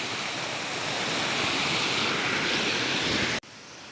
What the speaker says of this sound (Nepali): यो चाहिँ जिरोको खोला हो।